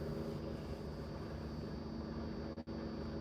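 A helicopter flying overhead during rescue practice produces a continuous, even low drone with a humming tone, steady and fairly distant, with no voices.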